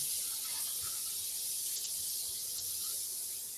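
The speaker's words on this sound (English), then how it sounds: "using the airbrush to dry her out a little bit" An airbrush blows a steady, faint hiss of air to dry paint on ZM tiles, continuous and close with small fluctuations.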